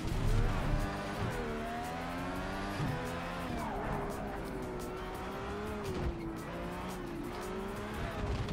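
A race car in the Project Cars 3 video game, played in VR, spins out with a long wavering tire squeal over a loud droning engine that dips and surges for several seconds, no voices.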